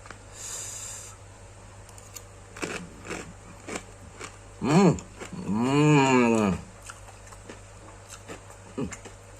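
Someone eating crunchy fried chicken crisps (kriuk) with spicy rice, giving scattered crisp bites and crunchy chewing close up, with brief vocal sounds and a drawn-out murmur between bites.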